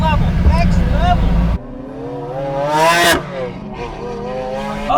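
A Pagani Huayra BC accelerates hard through the gears, its engine note rising in pitch, cutting sharply at a shift, then climbing again with a loud high-rev scream.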